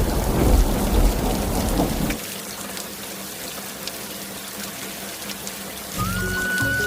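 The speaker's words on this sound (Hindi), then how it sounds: "तभी रास्ते में बहुत जोरों की बारिश शुरू हो जाती है" Heavy rain pours down with rumbling thunder on a stormy night, loud and steady at first, then easing to a softer, even downpour, with a brief sharp whistling tone near the end and no voices.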